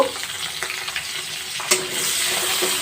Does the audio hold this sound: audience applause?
no